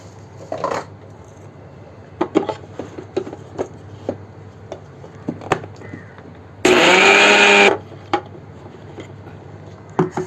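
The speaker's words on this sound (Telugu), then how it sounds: "ఎండలో పెట్టుకొని ఇది మిక్సీ పడుతున్నానండి" A kitchen mixer grinder grinding sun-dried rock salt for amla pickle, a loud, dense whirring burst of about one second standing out from quieter clinks and knocks around it.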